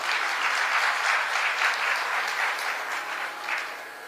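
An audience at a spiritual discourse by a Hindu guru breaks into sustained applause, a dense, even wash of many hands clapping throughout with no voices above it.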